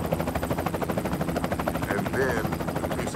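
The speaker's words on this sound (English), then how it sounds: "First, they came with the helicopter." A police helicopter flies overhead, its rotor thumping in a fast, steady pulse that stays loud and close throughout, with a voice briefly heard beneath it.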